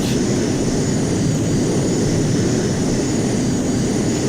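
A JAS 39C Gripen jet engine in a flight simulator game gives a steady, loud, continuous roar with no change in level and no talking.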